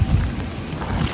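Strong wind gusts roar against the microphone outdoors during rain, a loud continuous low buffeting with no speech.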